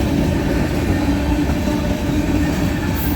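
A freight train carrying car haulers rolls slowly along railroad track in flood-damaged Carroll and Chariton County, Missouri, a loud, steady rumble with clattering wheels, close by and continuous.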